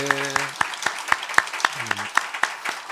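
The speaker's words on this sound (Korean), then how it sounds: "우리 박수 한번 하겠습니다" A church congregation claps together during a Sunday worship service, a brisk run of roughly a dozen sharp, evenly spaced claps with a short musical tone sounding beneath the first part and again briefly near the end.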